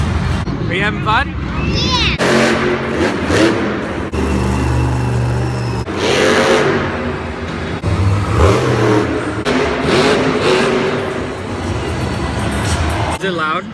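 Monster truck engines rev and roar loudly in bursts over a noisy crowd at a monster truck rally, with people talking nearby throughout.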